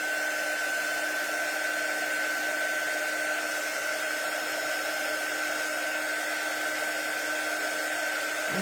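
A hair dryer blows continuously on matte paste, a steady, even whirring roar with a constant tone that holds unchanged from start to finish, close by and with no talking.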